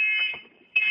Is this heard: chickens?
no